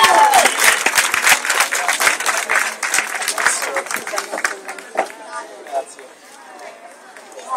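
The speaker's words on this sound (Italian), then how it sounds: "Grosso applauso" A crowd at a cosplay awards event claps loudly in fast, dense applause that gradually thins out, with voices cheering and chattering over it.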